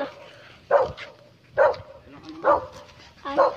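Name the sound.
dog barking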